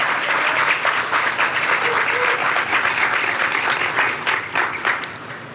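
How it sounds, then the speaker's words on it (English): Sustained audience applause at a university celebration for a new steam plant, dense and steady from a crowd throughout, easing slightly at the end. "So let's give her a round of applause one more time as well."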